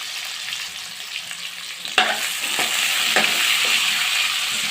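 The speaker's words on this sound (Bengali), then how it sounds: "আমার মোটামুটি আলু টালু ভেজে তুলে নিয়েছি" Small whole potatoes fry in hot oil in a pan, dusted with salt and turmeric, giving a steady close sizzle with a few sharp crackles and stirring clatters; no talking.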